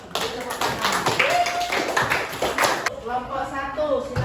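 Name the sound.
classroom students clapping hands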